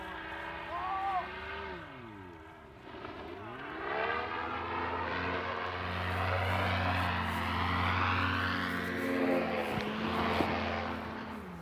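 An overpowered paramotor engine drones in flight, a loud steady propeller buzz that rises and falls in pitch as it passes, heard alone without talk.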